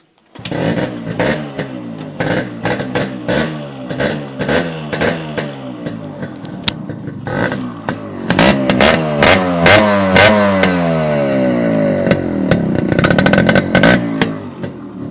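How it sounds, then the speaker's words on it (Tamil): A Yamaha motorcycle engine fires up in a garage and revs repeatedly, with loud, close throttle blips rising and falling and a steadier, harder rev run in the later half, no talk. "ஸோ ஒரு Yamaha வந்துட்டு நம்ம ஸ்டார்ட் பண்ணி காட்டியிருந்தோம்."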